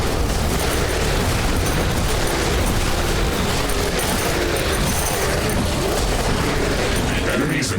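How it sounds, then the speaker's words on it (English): An energy connector is destroyed in The Riftbreaker, a sci-fi video game, amid a dense, loud wall of explosions and rumbling blasts that runs without pause, with a voice faintly present. "An energy connector has been destroyed."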